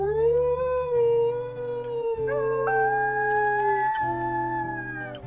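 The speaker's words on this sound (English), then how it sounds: "let's do a nice double howl" Two long, steady wolf howls from the video game Wolfquest overlap, one joining partway through, pitched high and sustained over a low droning background.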